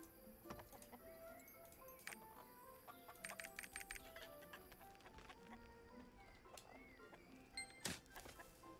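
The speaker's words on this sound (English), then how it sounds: "It's roosters." Roosters in Lost Ark's Mokoko Village give sharp, scattered clucks and calls over faint background ambience, with a few louder bursts near the middle and end.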